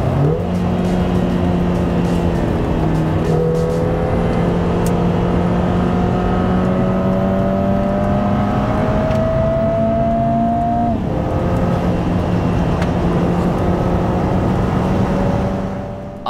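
A Lotus Emira laps the Hethel test track, its engine pulling hard through gears with rising and dropping pitch at each shift, loud and close throughout.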